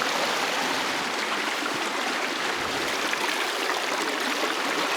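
Creek water rushes steadily nearby, a constant broad splashing flow with no voices, loud and even throughout.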